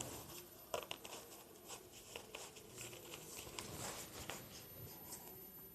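Handwriting on paper during a maths lesson: faint, close scratching strokes of a pen with small taps and pauses between words, no talking over it.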